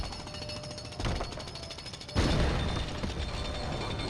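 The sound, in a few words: jackhammer used by Emmet in video game Lego Dimensions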